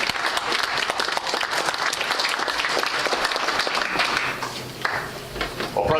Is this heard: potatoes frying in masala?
no